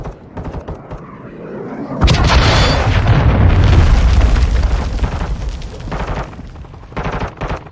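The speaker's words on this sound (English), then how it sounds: "Enemy cruise missile incoming." A loud, rumbling cruise missile explosion in a pistol-only video game match, a sudden heavy boom that swells and rolls on for several seconds before fading into scattered gunfire.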